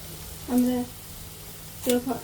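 Prawns fry in hot oil with a faint, steady sizzle, broken twice by short, louder tonal bursts that rise above the frying.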